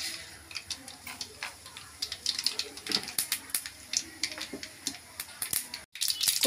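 Mustard seeds sputter and pop in hot oil while tempering sambar, with irregular crackles and sharp ticks over a faint sizzle that grow denser as the seeds heat.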